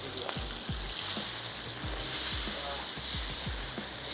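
Onions and ground tomatoes sizzle in hot oil with mutton, a loud, close frying hiss broken by a few scraping stirs of a spoon.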